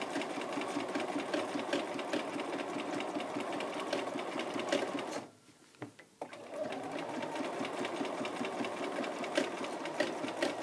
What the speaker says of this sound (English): I'm going to follow this purple line as much as I can until I run out of bobbin thread.